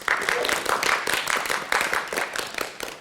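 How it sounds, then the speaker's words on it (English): An enthusiastic crowd of well-wishers greeting Marie Curie on her arrival in New York City, staged in a theater play: steady, fairly loud clapping and applause that runs throughout. "First stop, New York City, which is greeted by an enthusiastic crowd of well-wishers"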